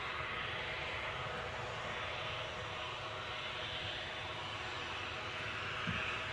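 An airplane at Glasgow airport, heard as a broad, steady jet roar that holds constant for several seconds at a moderate distance, with faint background noise and no clear talk.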